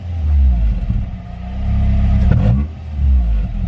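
A Ford ST car engine, recently revived, revs up and drops back several times, a close, deep rumble that swells and falls with a brief clattery peak.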